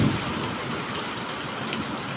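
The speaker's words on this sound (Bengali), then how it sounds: "এখন আবার বৃষ্টিটা নামছে" Steady rain pours in a dense, even wash of noise, with a low rumble of thunder at the very start.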